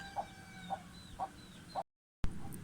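A newly hatched chick, a late September hatch on a rural homestead, peeps in four short, evenly spaced chirps against a low background hum. The sound cuts out briefly, then faint noise returns.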